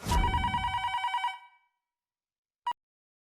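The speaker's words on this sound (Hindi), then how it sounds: "मैं फोन काटने वाला था जेठिया, लेकिन" A telephone rings with a rapid trilling bell for about a second and a half, then goes quiet before one short beep.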